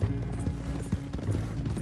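Horse hooves clip-clop at a steady walking rhythm in the western video game Red Dead Redemption 2, a close series of muffled thuds with faint tack rattle.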